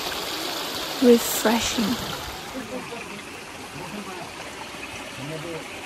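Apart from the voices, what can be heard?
flowing water of a stream in the hills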